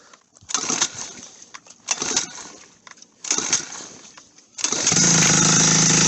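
A small engine, part of an untuned turbo build, is pulled several times on choke, each attempt a loud brief sputter, before it catches and runs steadily near the end.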